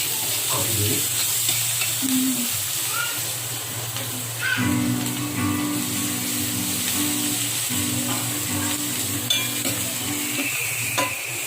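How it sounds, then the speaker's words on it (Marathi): Steady sizzling of crushed garlic frying in hot oil fills the whole stretch, with occasional stirring scrapes and a faint hum underneath. "मी याच्यात ही ठेचलेली लसूण टाकते आणि फोडणी द्यायची आपल्याला व्यवस्थितपणे"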